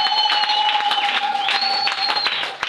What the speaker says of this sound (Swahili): Ongeza makofi usishangae.